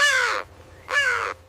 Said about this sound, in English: This is a crow. It is black and very smart.